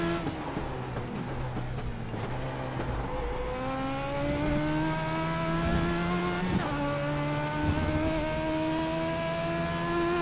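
An Advanced Legends race car engine at Lime Rock in iRacing drones loudly and steadily, its pitch climbing through the revs and dropping sharply at two upshifts, with no voices.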